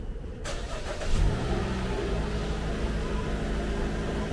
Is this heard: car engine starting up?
yes